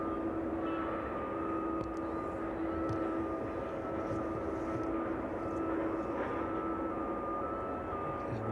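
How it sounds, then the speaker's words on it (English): A UPS Boeing 767 jet passes overhead near East Midlands Airport at Nottingham, a distant, even roar that holds steady without rising or fading. "The UPS 767 just passing overhead Nottingham now."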